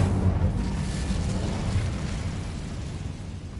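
The Incendio fire spell is cast in the video game Hogwarts Legacy, a deep whooshing burst of flame that starts loud and slowly fades over a few seconds, with no talk over it.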